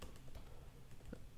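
Soft keystrokes on a computer keyboard while typing a Linux terminal command, a few scattered taps over a low steady background.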